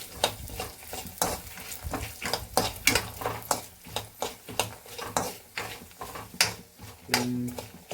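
Coriander seeds for ridge gourd chutney are tossed and stirred in a pan, giving a run of quick rhythmic rattling scrapes and light sizzling, close and fairly loud, with no talking.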